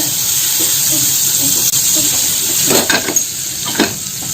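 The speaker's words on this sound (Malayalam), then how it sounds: "അതിന് വേണ്ടിയിട്ട് ഒരു പാൻ സ്റ്റൗവിൽ വെച്ചിട്ടുണ്ട്. ഇതിലേക്ക് ഒരു അര ടേബിൾ സ്പൂൺ ബട്ടർ ഇട്ട് കൊടുത്തിട്ടുണ്ട്." Half a tablespoon of butter sizzles in a pan on the stove, giving a steady bright hiss throughout, with a few soft stirring scrapes and bubbling crackles toward the end.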